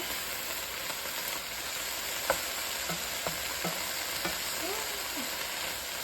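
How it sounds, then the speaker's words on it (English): Foraged milkweed pods cook in a pan with almost no oil, giving a faint steady sizzle with a few soft clicks and taps of stirring, and no talking. "Right now I'm letting them heat up and cook a little bit just with whatever was in the pan before."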